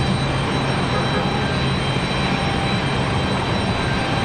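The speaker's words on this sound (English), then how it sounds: "That's the APU you guys are hearing" A Lufthansa Boeing 787 Dreamliner parked at the gate runs its auxiliary power unit, giving a constant, dense whirring drone with a low hum that holds level and unbroken.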